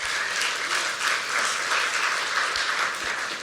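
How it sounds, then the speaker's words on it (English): Steady applause from a large audience at an arts summit opening, dense and continuous clapping held at an even level for a few seconds before cutting off. "So please give yourself a round of applause as well."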